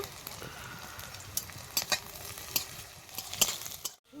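Chopped ginger, garlic and green chili sizzling in oil in a pan, a soft continuous fry with scattered crackles and spatula clinks, quiet and close, ending abruptly.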